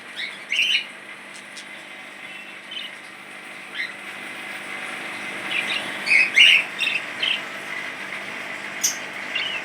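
Pigeons at a bird shop in Kerala give scattered chirps and short calls over a steady background hum, with a few louder bursts of calling near the middle.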